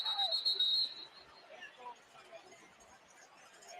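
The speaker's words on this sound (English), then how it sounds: "Whistles come in before Mississippi State's offense, as LSU will call a timeout." A referee's whistle blows at an LSU versus Mississippi State college football game, one sharp shrill blast at the start over a murmuring stadium crowd, then fading into general babble.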